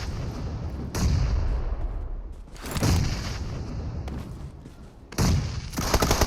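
Grenade blasts and bursts of gunfire in PUBG on the Erangel map, several loud booming hits spaced a second or two apart amid scattered shots, with brief voices in between.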